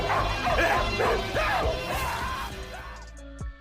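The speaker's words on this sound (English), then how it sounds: "After successfully defeating Ju, A Sing released the wild dogs that were there to kill Jack." Wild dogs in a film about a gangster-run city of Kowloon bark and yip in a rapid, overlapping pack, loud and close, trailing off into a final sharp sound.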